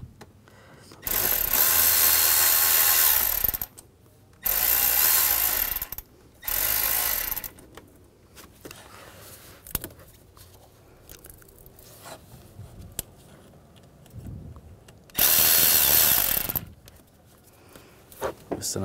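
A power ratchet with an 8mm socket loosens a worm clamp on a radiator hose of a 2011-2019 Ford Explorer, running in four close, loud bursts of a few seconds each, separated by quieter handling clicks.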